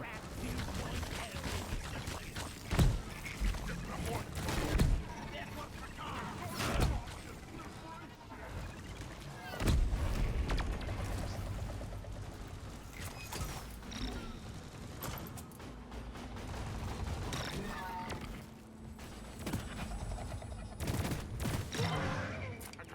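Gunfire with the explosive reload mod in Deep Rock Galactic, heard as scattered sharp shots and bursts over a constant busy game din for most of the clip, with a voice talking now and then.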